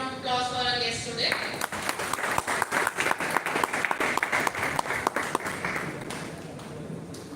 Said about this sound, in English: please have a big round of applause for our guests today